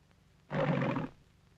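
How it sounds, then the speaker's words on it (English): A single shortened roar from Telly the Lion in the MGM logo, one half-second raspy, throaty burst that starts abruptly and fades quickly against a quiet background. "One has a shortened roar."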